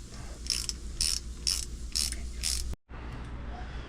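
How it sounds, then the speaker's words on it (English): Ratchet hand-cranked to tighten the oil filter on a Seadoo FishPro Trophy 170 personal watercraft: five rhythmic bursts of close, bright clicking, then a brief silence and quiet room noise. "we're gonna use a ratchet and hand crank it and hand tight it."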